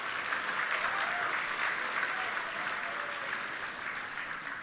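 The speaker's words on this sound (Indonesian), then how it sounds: "Tepuk tangan sekali lagi" Steady, dense applause from a large crowd at a university graduation ceremony fills the space without a break, heard at a moderate distance with no talking over it.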